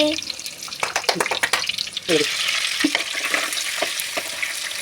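Fish curry frying in a clay pot gives off a steady hiss and sizzle throughout, with stirring clatter near the start and people talking over it.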